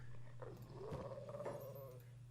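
A bone dog in Kenshi lets out one drawn-out, wavering growl that rises and bends in pitch, with a shorter snarl just before it, heard alone over a steady low hum.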